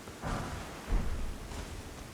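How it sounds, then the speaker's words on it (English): Rain falls steadily in Elden Ring, a soft broadband hiss with a low distant rumble of thunder swelling briefly near the middle, no voices over it. "It's raining."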